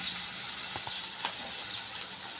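Brinjal fry with coriander sizzles in a pan, a steady hiss close by with a few faint clinks of stirring.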